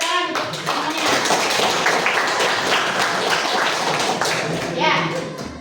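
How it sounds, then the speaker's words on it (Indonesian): A group of students in an Indonesian classroom claps together, a loud, busy burst of hands close by, with children's voices chattering underneath throughout. "Tepuk tangan semuanya."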